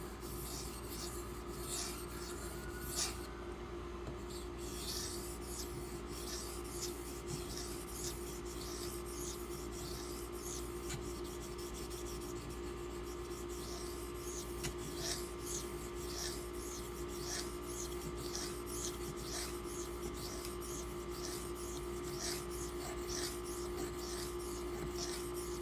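A Ganzo FH11 knife blade rubs steadily across a 2500 grit sharpening stone with a rough, aggressive surface, making a continuous soft rasping scrape in repeated close strokes with no voices.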